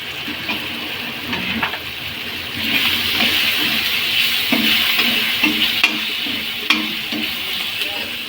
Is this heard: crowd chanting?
no